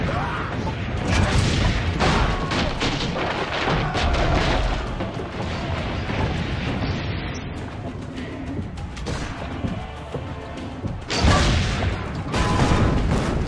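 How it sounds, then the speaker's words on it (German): Cannon shots hit a tower in Assassin's Creed Brotherhood, loud booming impacts and crashing debris in repeated bursts, with a dense noisy battle bed between them. "Noch ein Schuss, dann ist der Turm auch weg."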